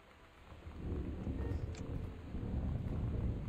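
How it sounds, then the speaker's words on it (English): Thunder in the video game Gone Home, a low, distant rolling rumble that swells and lingers for a few seconds with rain-like noise, and no talk. "That's just thunder."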